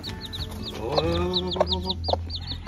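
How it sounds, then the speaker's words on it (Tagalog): Chicks and chickens are heard close by: rapid, high peeping repeats throughout while an adult hen clucks softly in short bursts underneath. "yan yung mga sisiw natin"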